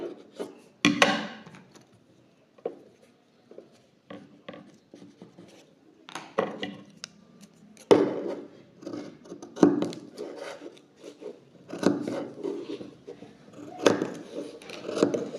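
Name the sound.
cutting open fabric at the neckline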